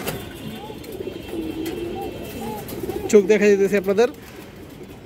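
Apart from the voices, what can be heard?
silver khaki female pigeons cooing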